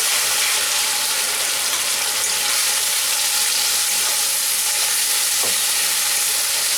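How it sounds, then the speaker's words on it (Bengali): Spice paste frying with onions in a hot pan for a moong dal dish, making a loud, dense, continuous sizzle with a faint stir near the end. "এবার আমি দিয়ে দেব যে পেস্ট করে রেখেছিলাম"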